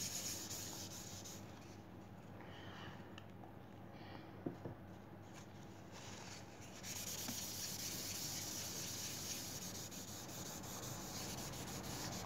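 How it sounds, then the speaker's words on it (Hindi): Tissue paper is rubbed across a pencil drawing of a pot, a soft, continuous brushing scrape that runs steadily and faintly over room noise. "और टिश्यू पेपर से इसे ब्रश करेंगे।"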